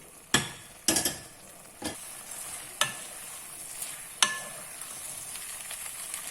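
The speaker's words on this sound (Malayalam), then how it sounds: "ഇനി നമ്മൾ വറുത്ത് വെച്ചിരിക്കുന്ന ബേബിക്കോൺ ഇടണം" Fried baby corn tossed in chilli sauce in a hot pan gives a soft sizzle under a handful of sharp scraping, clinking stirs spaced irregularly, close and fairly quiet.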